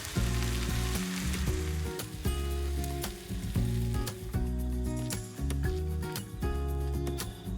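Fish and corn fry over an open fire with a steady loud sizzle and crackle as butter is basted on, close up, with rhythmic scraping strokes and no talk.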